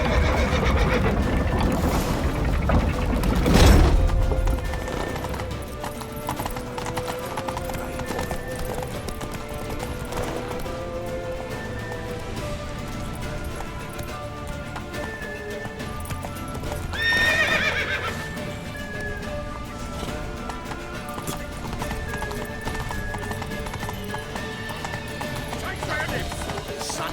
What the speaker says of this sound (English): Grab a horse to the temple!